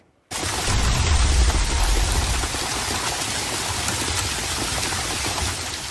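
Heavy rain with hail pounding down in Marietta, Georgia during an evening thunderstorm, a loud, dense, steady roar of drops and hits that begins abruptly and continues without a break.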